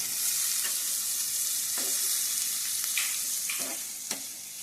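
Onion and tomato frying in a pan, a soft, even hiss of sizzling oil with a few light stirring scrapes and taps, close but fairly quiet, no speech.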